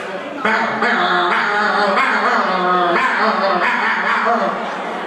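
At a college annual function, a human voice mimics a dog, giving a run of loud, close, yelping barks in quick repeated bursts, amplified and sustained over several seconds.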